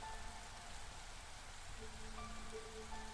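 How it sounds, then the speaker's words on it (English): Steady rain falls across a fantasy city in the roguelite builder Against the Storm, a dense, even hiss with faint soft tones drifting underneath, continuous and close throughout with no voices. "The rain's about to shift here, it looks like."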